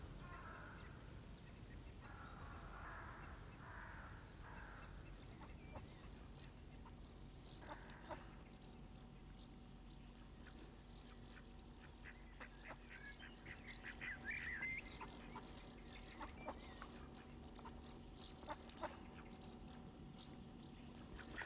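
Ducks quack and call at feeding time on a garden pond in England, a faint distant scatter of repeated quacks and gabbling over a low steady background, no voices.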